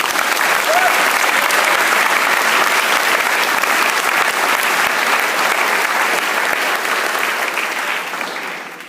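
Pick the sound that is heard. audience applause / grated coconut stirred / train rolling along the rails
audience applause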